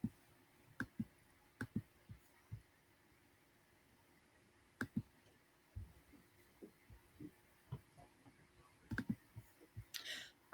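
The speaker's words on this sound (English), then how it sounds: "I think it's Angela's keys on her keyboard." Computer keyboard keys click sparsely and faintly in scattered short bursts with long quiet gaps, heard from some distance over a quiet room with a low hum.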